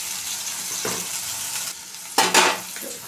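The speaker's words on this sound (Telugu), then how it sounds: "వేగనిద్దామండి" Ingredients sizzle and fry in a pan for homemade pasta, seasoned with salt, a steady hiss with brief louder stirring bursts near the end.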